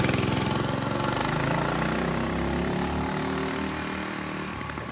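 Predator 212cc gas engine powering a converted Razor Vespa scooter while riding, a steady loud engine drone with a continuous low rumble that sags slightly in pitch toward the end, no voices.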